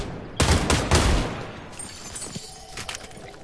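Several quick gunshots in a shooter video game, fired in a close rapid cluster, followed by quieter scattered reports and fading echoes.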